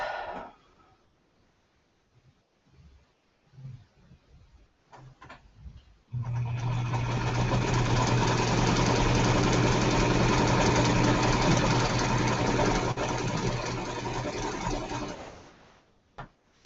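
A sewing machine chain piecing quilt blocks runs in a loud, steady, rapid whir for about nine seconds, following a few quiet handling clicks and brief starts, then stops.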